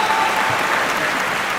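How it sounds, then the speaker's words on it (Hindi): Audience at a Hindi comedy poetry gathering bursts into brief, dense applause, a loud sustained wash of many hands clapping together. "ताली बजाइए"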